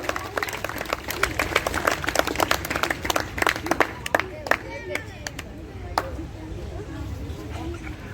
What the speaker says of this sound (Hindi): तालियों से स्वागत किया जाए उनका